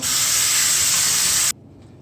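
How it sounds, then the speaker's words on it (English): A steady, loud rushing hiss of water pouring off rinsed callaloo leaves runs for about a second and a half, then cuts off sharply, leaving quiet. "You want to drain it, drain off some of the water."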